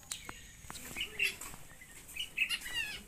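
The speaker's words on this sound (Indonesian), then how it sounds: "ini juga ini ada burung anak tercuk" Nestling birds taken from a nest high in a pinang palm give faint, scattered high peeps and chirps in quick irregular bursts, quiet and close.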